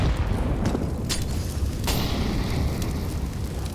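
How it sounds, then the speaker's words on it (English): Grenades going off in a Counter-Strike match on the Train map, a dense rumbling burst of booms with sharp crackling transients, steady and loud throughout with no talk. "Nice set of grenades"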